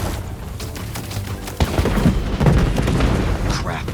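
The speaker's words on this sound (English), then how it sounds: "Crap, the sparks lit two more." Booming bursts of fireworks go off in Marvel's Spider-Man 2, one sharp blast then a dense run of rumbling explosions, with faint voices underneath.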